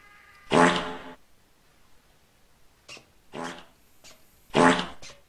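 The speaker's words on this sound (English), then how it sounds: "I got a fart on your face." Three farting sound effects from the video game Space Station 13, loud wet bursts separated by pauses, the second with a short leading pop, alone without talk.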